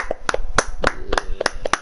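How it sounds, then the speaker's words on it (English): A few people clap sparsely at an esports invitational event, roughly a dozen sharp separate handclaps in an uneven rhythm, fairly close and with no talking over them. "A little bit of applause there"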